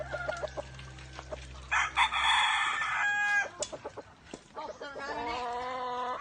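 Chickens cluck in short bursts, then a rooster crows loudly twice, with more clucking between the crows.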